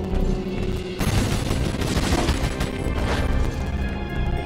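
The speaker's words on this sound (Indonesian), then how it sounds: "Datang turun ke bawah cuma buat lempar granat." A grenade blast and crashing gunfire fill a Resident Evil 4 fight on the GameCube version running on Android, with loud, sustained explosive noise and debris for several seconds.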